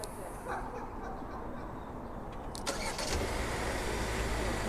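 A 2020 Hyundai Sonata Ultimate starting up, a brief whirring crank followed by the engine settling into a steady low idle, heard close by outdoors.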